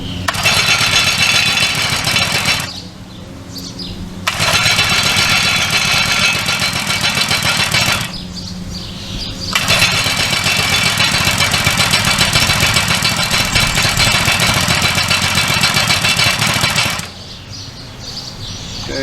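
An Earthquake MC440 cultivator's pull-start engine with the choke on fires and runs in three loud sustained bursts, each dropping away to quiet pauses between pulls, with no talking.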